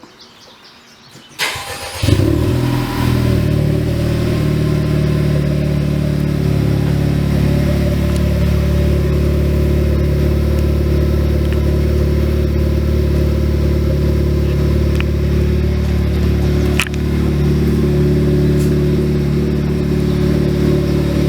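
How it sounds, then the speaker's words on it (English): A 2019 Honda Civic Type R with a Greddy HG Supreme tri-tip exhaust fires up cold after a brief crank, then settles into a loud, deep, steady idle with a throaty exhaust drone that continues unbroken. "a cold startup on a 2019 Honda Civic Type R with a Greddy HG Supreme tri-tip exhaust"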